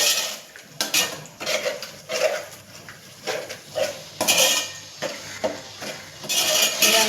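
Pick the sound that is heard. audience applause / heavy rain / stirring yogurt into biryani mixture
stirring yogurt into biryani mixture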